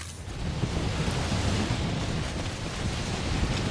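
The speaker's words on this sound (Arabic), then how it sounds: "العاصفة بتشتد" A heavy storm in the video game Death Stranding, with dense rain hissing steadily and deep thunder rumbling underneath, loud and continuous with no voices.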